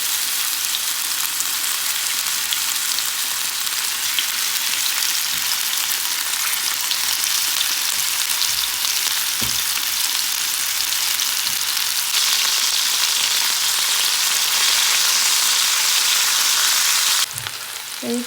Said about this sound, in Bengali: চিকেনগুলোকে এখন করে ভেজে নেবো